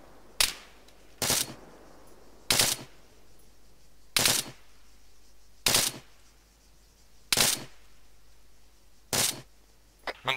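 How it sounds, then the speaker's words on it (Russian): Single gunshots from an ArmA 3 firefight ring out about eight times at fairly even intervals of a second or so. Each crack is sharp and loud over a quiet background, and no one speaks. "опять стреляет"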